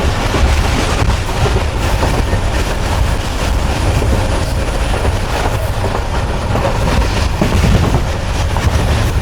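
A Tezgam passenger train runs at speed near Liaquatpur, with a steady loud rumble and rhythmic wheel clatter filling the whole stretch, no voices.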